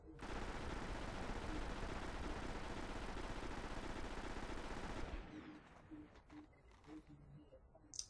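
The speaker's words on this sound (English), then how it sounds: "Watch this when I show you another auto rifle that I got." Sustained automatic fire from an auto rifle in the video game Destiny, a loud, continuous rattling burst lasting about five seconds before it stops abruptly, leaving quieter game sounds and faint clicks.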